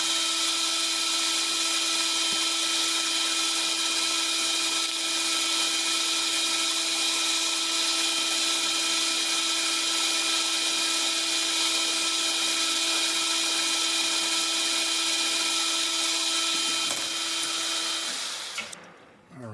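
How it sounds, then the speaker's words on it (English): A 1/4 inch hole being drilled on a lathe in a metal shop gives a steady, loud machine whine with a constant tone that runs for almost twenty seconds, then winds down abruptly at the end. "Let's drill this hole."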